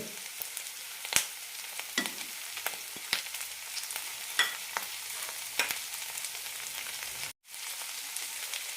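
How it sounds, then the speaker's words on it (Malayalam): Chopped onion and coriander leaves sauté in a pan for a chutney, a quiet steady sizzle punctuated by frequent light clicks and scrapes of stirring, with a brief dropout near the end. "നന്നായി വഴറ്റാം മല്ലിയില നന്നായി വാടി കിട്ടണം"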